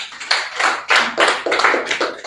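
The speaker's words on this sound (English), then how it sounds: "Please, let's clap for him." An audience claps for a speaker at an on-site strategy session, a short burst of lively, uneven applause with bright overlapping hand claps swelling and easing over a couple of seconds.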